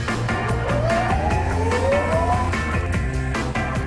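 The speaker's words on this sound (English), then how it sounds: "the latest technology, they're French Soty RTX carts, and they are fast" Fast electric go-kart, a French Sodi RTX, speeding past on a track with a rising and falling whine and a brief tire squeal, loud and close with no talking.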